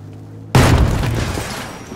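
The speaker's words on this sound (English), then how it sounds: "I'm gonna blow the wall open." An explosive charge blows open a wall in Battlefield V multiplayer: one sudden loud, close blast after a quiet moment, followed by a long roar of crumbling debris.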